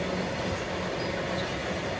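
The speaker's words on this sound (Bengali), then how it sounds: "গাইস ট্রেন যাচ্ছে, ট্রেন মালগাড়ি।" A freight train rolls past on the railway, a steady broadband rumble and rattle of wagons continuing throughout without letting up.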